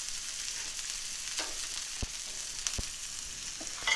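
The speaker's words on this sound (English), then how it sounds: "we're going to put those in and get those start toasting a little bit" Chopped shallot and garlic toasting in a pan give a faint, steady sizzling hiss, with a few sharp taps of a utensil against the pan and no talking.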